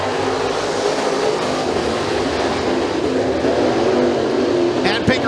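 Race cars at McKean County Raceway, a dirt track, taking the green flag for a heat race: a loud, dense field of engines roaring together at speed, continuous throughout, with a brief click or thump near the end.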